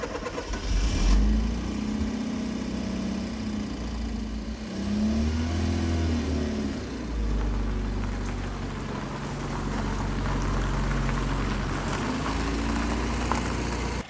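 Ford Escort Mk5 engine idling while warming up, a steady close low rumble with slight pitch rises and dips as the idle settles, running continuously throughout.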